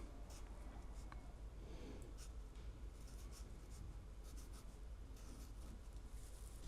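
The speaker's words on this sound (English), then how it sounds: "something else I like to do before I put a new filter in is write the date" A pen scratching the date onto a new cabin air filter for a Cadillac VISTIQ, quiet and close over a steady background hiss.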